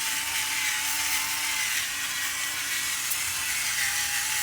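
An electric grinder crushing coarse Himalayan pink salt gives a steady close whirring grind with a faint ratcheting texture, constant and loud throughout, with no talking.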